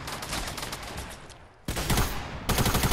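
Pistol gunshots in Fortnite, several sharp close shots cracking in quick bursts, loud and separated by brief pauses.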